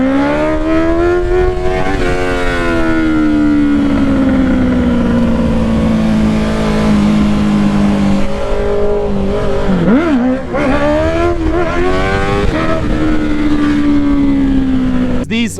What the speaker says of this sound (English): Those pops, those quick shifter sounds, boys, everything is just freaking insane.